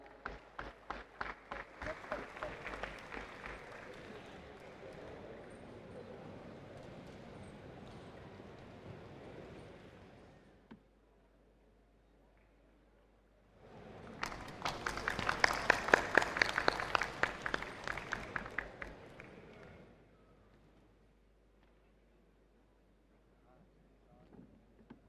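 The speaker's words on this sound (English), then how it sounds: "Please give a huge round of applause." Audience applause at the ABU Robocon 2023 national robot contest ceremony in New Delhi. A long wash of clapping fades out, then after a pause a second, louder burst swells and dies away, with faint clapping returning at the end.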